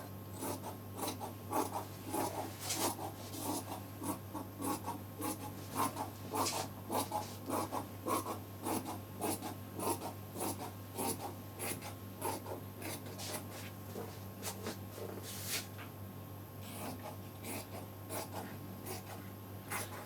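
Scissors cutting fabric for a shirt sleeve, a soft run of close snips and rasping slides over a steady low electrical hum, with no speech.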